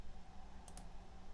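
Two quick, faint mouse clicks on a computer while uploading files in Microsoft Fabric, close together and alone over a low steady room hum.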